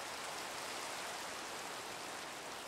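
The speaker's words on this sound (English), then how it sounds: "Does anyone else just feel like really cozy when it's raining in Minecraft and you're in your house?" Rain falling in the video game Minecraft, heard from indoors in a house: a steady, soft, even hiss of rainfall with no voices.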